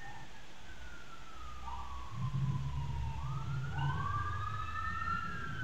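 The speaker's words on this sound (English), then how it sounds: "Sirens of San Francisco." Emergency vehicle sirens wail through San Francisco streets, rising and falling in long sweeping tones over low traffic rumble, moderately distant and sustained.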